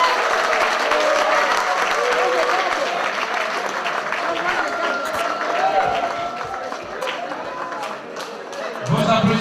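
Applause from the audience at an evening gala at the Lycée du Manengouba school, a sustained, dense crowd of clapping that holds steady throughout, with voices and chatter mixed in and a brief lower burst near the end.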